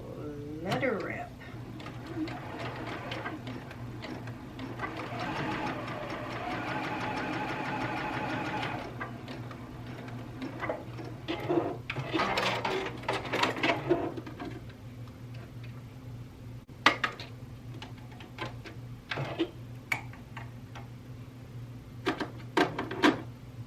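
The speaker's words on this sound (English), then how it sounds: "So I'm going to sew the neckband instead of serge it to reduce the bulk" A sewing machine stitches a quarter-inch seam on a neckband in short bursts of fast whirring tick-tock, with pauses and a few clicks and thumps between runs, a voice speaking in places.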